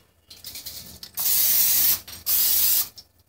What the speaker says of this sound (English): you probably won't have to keep spraying it